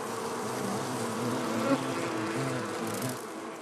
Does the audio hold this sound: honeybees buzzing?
yes